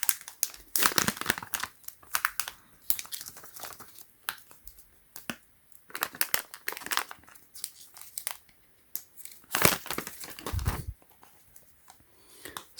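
Tape and packaging on a boxed 2020 Apple iPhone SE (2nd generation, 64GB, black) being pulled and opened up close, giving bursts of crisp crinkling and tearing with short pauses between them.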